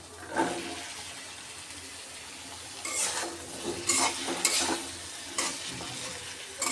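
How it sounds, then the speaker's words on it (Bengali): Papaya pieces stir-fried in a pan with salt, spring onion and green chilli, giving a soft continuous sizzle with bursts of spatula scraping and stirring that come in clusters near the end, close by and with no voices. "আমি পেঁপেটা ভালোভাবে কষিয়ে নেবো"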